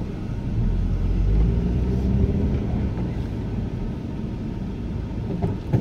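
From inside a first-generation Honda CR-V with an automatic transmission, a low engine rumble and road noise hold steady throughout, with a faint voice in the background.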